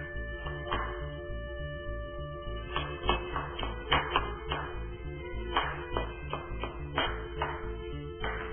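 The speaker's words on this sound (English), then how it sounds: "Now you want to dice this really fine" A knife finely dicing onions on a cutting board, heard as a series of close, irregular sharp taps and chops over a steady low background hum, without speech.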